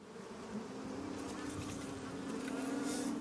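Bees hum in a beekeeping scene from Blade Runner 2049, a soft, steady, even drone of many insects that stays at one level throughout with no talking.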